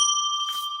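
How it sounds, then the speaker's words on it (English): A bell rung by a streamer during a live Q&A stream gives a single close, bright ring with shimmering overtones that sustains and slowly fades, heard alone. "Man, I like my bell"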